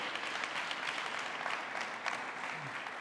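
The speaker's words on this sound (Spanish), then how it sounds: "denle un aplauso al Señor" A church congregation claps in praise during a sermon, a steady, moderately soft wash of many hands from across the room, continuous throughout with a few brighter claps poking through.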